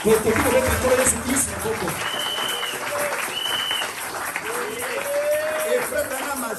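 A church congregation in Kinshasa claps and cheers in a sustained burst of applause while a preacher's voice carries over it.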